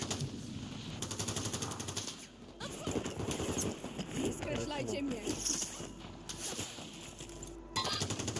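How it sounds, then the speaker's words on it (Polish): Rapid, continuous gunfire from many directions in an online shooter game, dense bursts running almost without pause while players talk over it. "Z każdej strony walą. Cały czas ktoś strzela, ty."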